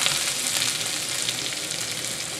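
Smoked sausage or bacon fries in a hot pan with a steady, dense sizzle that holds close and even throughout, with faint stirring scrapes mixed in, no voices.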